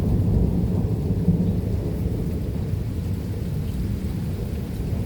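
Severe thunderstorm with 60 mph winds: heavy low thunder rumbles under a dense roar of rain and wind, loud and continuous with no voices.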